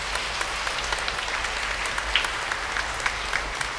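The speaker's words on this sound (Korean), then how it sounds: "네, 큰 박수 부탁드리겠습니다." An audience in a Catholic parish church hall gives sustained applause after an award is read out, a dense, even clapping that carries on steadily without stopping and has a low hum underneath.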